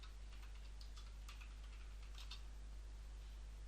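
Typing on a computer keyboard gives faint, sparse key clicks over a steady low hum.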